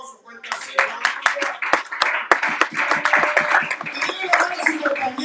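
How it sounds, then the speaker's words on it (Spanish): A church congregation at a Spanish-language Apostolic service bursts into loud applause, with dense, steady clapping and sharp individual claps throughout, while voices call out underneath. "Un aplauso fuerte"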